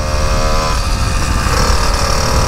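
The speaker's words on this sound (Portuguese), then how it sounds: "Deixa a moto passar, ó." A motorcycle engine drones loud and close on a track, a steady buzzing note that shifts pitch as the bike passes.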